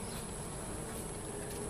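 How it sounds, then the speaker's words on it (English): A swarm of honeybees from a top bar hive drones in a steady, dense hum, faint and continuous with no voices. "Don't these bees look a little darker than the other bees?"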